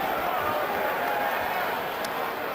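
A boxing arena crowd of more than 5,000 fans roars and murmurs steadily as the fighters are called to the center of the ring, a dense wash of distant cheering.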